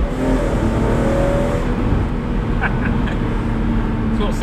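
Engine of a BMW Z4M Roadster convertible on a sunny road, a steady loud exhaust drone dropped into second gear, with a brief louder burst near the end and traffic around.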